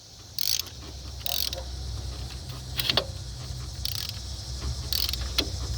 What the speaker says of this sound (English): Could have used a bigger ratchet.